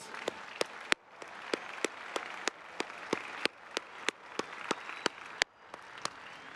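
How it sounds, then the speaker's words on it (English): A graduation commencement crowd at Ohio State University applauds the class of 2024, a broad wash of clapping with sharp, distinct claps popping out near the front, moderate and sustained. "So let's one more round of applause for the class."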